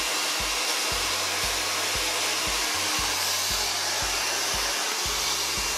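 Hair dryer blowing cold air while a round brush is worked through short hair, a loud, steady close-up whoosh with a low motor hum and faint regular thumps under it, with no voices.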